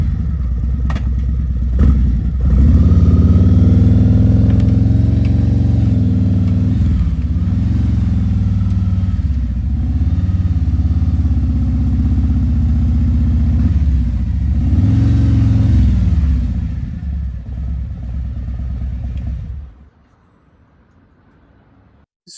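Harley-Davidson motorcycle engine rumbling loud and close as the bike is ridden into a moto-van, idling with a few throttle swells before cutting off abruptly near the end.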